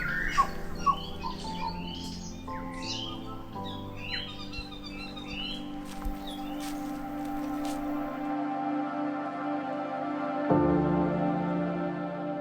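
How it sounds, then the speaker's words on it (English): Varied bird calls and chirps from a forest park in Wellington, New Zealand ring out across the first few seconds over a steady low hum, fading into continuous background noise. "all around you you've got these really unique sounding bird"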